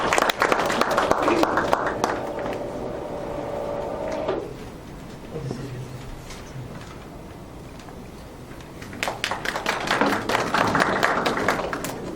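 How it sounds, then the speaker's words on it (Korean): Audience applause at a spinal cord forum in Korea greets a speaker, with scattered clapping in two bursts separated by a quieter stretch. Voices can be heard under and between the clapping. "박수로 모시도록 하겠습니다"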